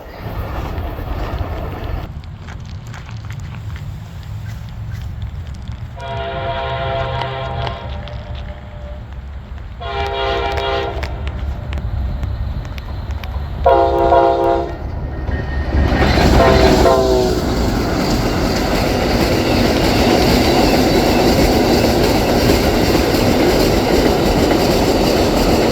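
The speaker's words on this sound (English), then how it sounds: "Right here you can see Winston-bound trains in addition to locals and Amtrak." Trains rolling through a railfanning spot in Lakeland, Florida, with repeated horn blasts and steady rumbling wheel noise, loud and close, swelling as the train passes.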